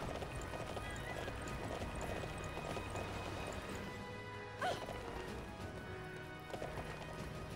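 Steady hoofbeats of a galloping horse run throughout, mixed into a dense bed of game music and ambience, with a brief whoosh midway.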